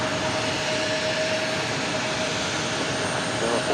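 A jet airliner taking off from runway 4 left at JFK airport, a loud steady broadband engine roar sustained throughout with no talk.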